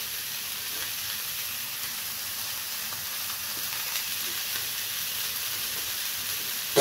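Beef burgers sizzle and crackle in a hot pan, a steady bright hiss of frying fat continuing evenly throughout, close up, with no talking.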